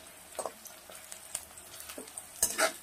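Beans, carrots and capsicum stir-fry in a pan for egg fried rice, a soft sizzle broken by scattered scraping and clinking stirs, close and fairly quiet.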